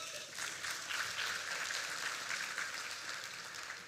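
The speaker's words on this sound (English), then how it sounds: "Give him a round of applause." Audience applause at a leadership talk fills the stretch, a steady dense wash of many hands clapping at moderate distance, sustained without a break and easing slightly toward the end.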